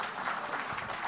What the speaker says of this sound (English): you stand up and you give them a round of applause,